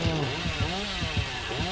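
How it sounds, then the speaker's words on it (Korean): The killer's chainsaw revs in the video game Dead by Daylight, a rough buzzing engine with rhythmic pulses that rise and fall about every half second. It sounds moderately loud under a busy game mix. "전기톱 본다."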